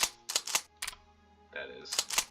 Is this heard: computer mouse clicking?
yes